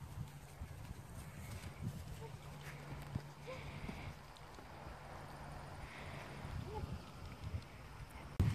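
A yearling colt being led on foot, its hooves clip-clopping steadily at a walk over a low rumble of wind or water, with people talking nearby.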